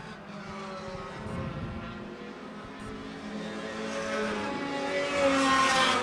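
Race cars roar past on an oval track in a taxi racing event, engines droning continuously and swelling louder toward the end, heard from the stands with no talk.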